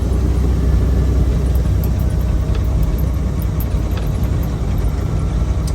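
A semi truck's engine drones steadily while driving, a loud low rumble heard from inside the cab with faint ticks and rattles over the continuous hum.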